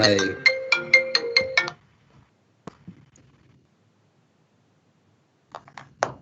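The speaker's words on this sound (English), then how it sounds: "Hey, got a phone call." A phone ringtone plays a quick run of bright repeating electronic notes for under two seconds, then stops, followed by faint clicks and a few short words from a nearby voice.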